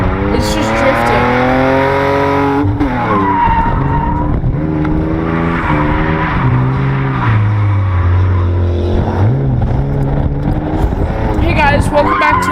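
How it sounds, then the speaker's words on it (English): A car drifts with its engine revving up and down and tires squealing in long, loud sweeps. A voice sounds over it. "Today we're doing car drifting ASMR sounds."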